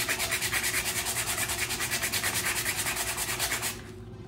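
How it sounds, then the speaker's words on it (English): 120-grit sandpaper rubs back and forth on a wooden side table in fast, even strokes, a loud rhythmic scratching that cuts off abruptly near the end. "we're gonna go ahead and sand these down. I'm just using some sandpaper, 120 grit."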